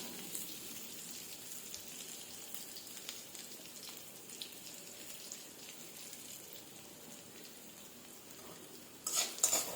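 Spinach aloo paratha filling with turmeric and green chillies being stirred in a pan, a soft, steady sizzle with faint scraping, quiet throughout, then a brief louder clatter at the very end.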